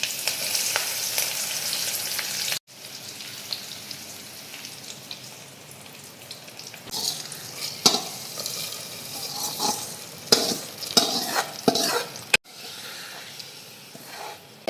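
Mustard seeds, fenugreek, dried chillies and curry leaves crackle and sizzle in hot oil, a steady hiss broken by sharp pops that grow busier toward the end, with a brief cut partway through.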